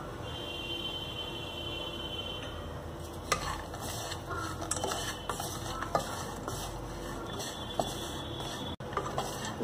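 Dry spices are stirred into a fox nut, green pea and dry fruit chaat, producing close scraping and stirring with light clicks and taps over a faint sizzle, with a brief steady tone at times and no speech.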